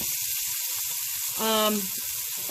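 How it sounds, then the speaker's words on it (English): Thin steaks sizzling in hot oil and butter in a pan, seasoned with rosemary or thyme: a steady close frying hiss with a brief louder tonal burst midway as hot fat is spooned over the meat. "take a spoon and just throw the spoon with the hot oil and butter all over your peppers or meats"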